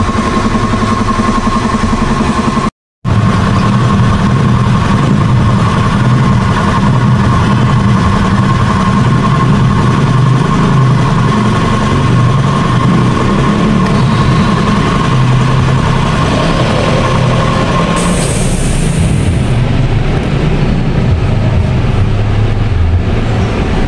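A motorcycle engine idles steadily and loudly up close, a constant low rumble with a brief dropout near the start.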